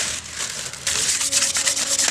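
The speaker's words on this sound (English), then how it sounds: "We're sanding down the rims now." Steady rasping scrub of sandpaper rubbing against car wheel rims, close up, growing louder and more rhythmic after a brief quieter start.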